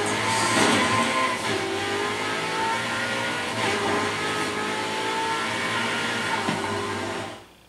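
Car engine in the racing game Forza Horizon 5, a steady loud mid-pitched drone with revving swells, heard alone before fading out at the end.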